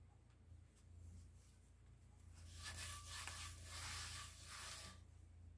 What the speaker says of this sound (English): That one had a little bit of rust on the bottom, so I just went ahead and wiped it.